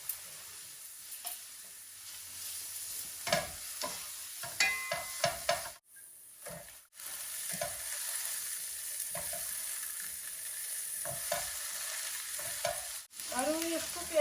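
Onion frying with garlic and ginger, a quiet continuous sizzle under repeated spoon scrapes and stirs, with a brief clatter partway through, heard up close and without voices.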